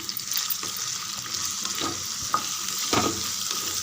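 Pumpkin, beans and potato sauté in hot oil, with a steady sizzle and occasional spatula scrapes and knocks against the pan, close and continuous.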